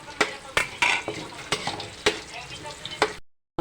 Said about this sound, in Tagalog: haluin po natin yan. Hintayin po natin siyang mag-brown. Pwede na rin natin ilagay ang ating sibuyas.